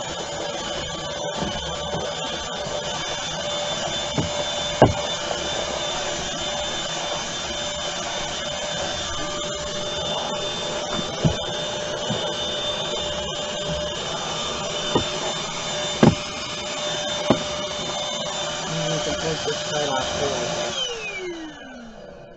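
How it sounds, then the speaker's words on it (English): A vacuum cleaner runs with a steady, loud whine for a long stretch, with occasional knocks and clicks, then winds down at the end. "I'm going to vacuum in a second."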